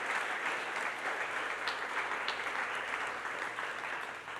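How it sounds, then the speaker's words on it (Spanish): Church congregation applauds during a sermon, a steady, fairly soft roar of many hands clapping at a distance, sustained evenly without voices over it. "aplaudimos."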